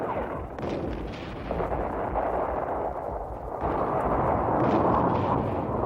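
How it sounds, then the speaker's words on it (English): Israeli artillery shells Syrian strongpoints during the 1967 Six Day War, heard as a dense, continuous rumble of booms and blasts that swells louder toward the end, with no speech. "From the rear, Israeli artillery shelled the most stubborn Syrian strongpoints with pinpoint accuracy."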